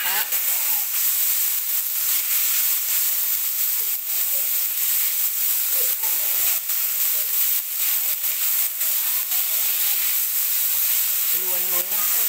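Steady hissing sizzle of beef stir-frying in a pan for a Thai jungle curry, with faint stirring scrapes throughout and a brief voice near the end.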